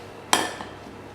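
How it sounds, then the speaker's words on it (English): A single sharp clink of a utensil against a bowl while apples are mixed with sugar, cinnamon and lemon juice, followed by a faint scrape and quiet. "I'm going to mix it all together"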